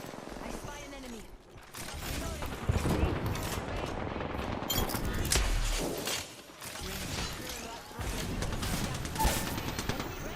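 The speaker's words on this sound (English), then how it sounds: "I missed two shots." Gunfire in a modded shooter video game: dense bursts of shots and rattling fire layered with thuds and mechanical clanks, continuous and loud throughout the clip.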